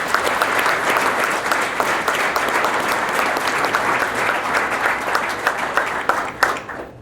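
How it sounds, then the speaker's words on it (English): Sustained applause from an audience at a police chief's citizen awards ceremony, dense steady clapping at full strength that thins and tapers off near the end. "I think we still should give them a round of applause even though they're not here."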